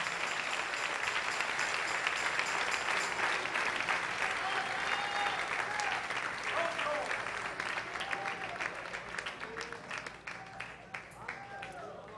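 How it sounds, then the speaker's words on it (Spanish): A church congregation applauding together, a dense sustained wash of clapping that thins and fades toward the end, with a voice calling out faintly over it. "Dale un aplauso al Rey."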